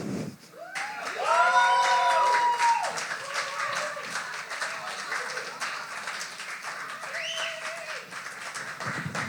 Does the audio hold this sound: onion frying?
no